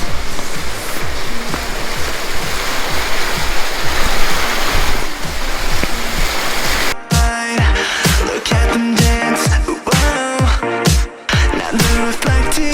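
Rushing water of the Krupa river by old water mills in a canyon, a loud steady broadband roar throughout, with music cutting in strongly over it partway through.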